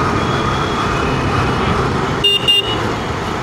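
Dense road traffic in a jam hums and rumbles close by, with engines idling and a short car horn toot near the end.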